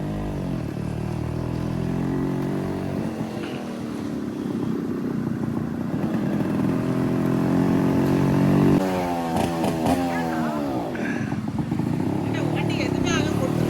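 Motorcycles ride along a road with a steady, close engine drone that rises and revs partway through, while voices talk over the engine noise.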